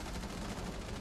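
Hip-fire gunshots in Rainbow Six Siege, a rapid burst of game gunfire filling the whole short moment with dense, continuous rattling.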